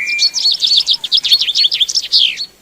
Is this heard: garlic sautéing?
no